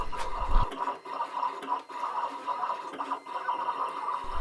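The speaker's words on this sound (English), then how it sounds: "you just press send to cutter and the machine will automatically start to cut" A Siser Juliet vinyl cutter cuts out a sticker, a steady close scratching and whirring drone with brief pauses as the blade moves.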